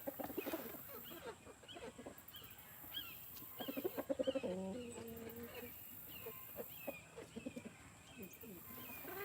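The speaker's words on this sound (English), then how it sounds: "Listen to all my chickens raising sand." Several backyard chickens cluck and squawk in agitated bursts at close to middle distance, rising into a louder flurry midway, with quieter background chatter from the flock throughout.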